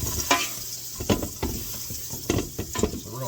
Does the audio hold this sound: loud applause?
no